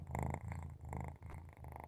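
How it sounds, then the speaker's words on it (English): A cat purrs up close in soft, rhythmic cycles, each breath a low rumbling pulse repeating about every half second, quiet and alone. "I don't know if you can hear the purring."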